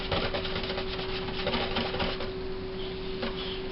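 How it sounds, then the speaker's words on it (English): Homemade laundry soap being whisked in a container, a steady, close scratchy rattle of the whisk through thick, lumpy liquid with faint sloshing throughout. "you might want to give it a little whisk"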